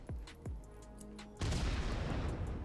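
A grenade detonating in a 5v5 tactical shooter match: two short thumps first, then a loud heavy blast at the midpoint that spreads into a rumbling roar to the end.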